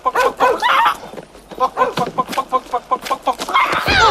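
Dogs bark at night in a rapid run of short, sharp, evenly spaced barks at moderate distance, with voices talking before and after.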